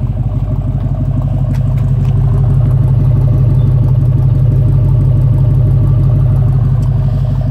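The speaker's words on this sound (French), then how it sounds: "elle a 2 lignes d'échappement, elle a des glass packs en dessous" A 1965 Ford Mustang V8 coupe idles through dual exhaust with glass pack mufflers, a steady, loud, low rumbling burble with even pulsing that holds for the whole stretch, close by with no talk.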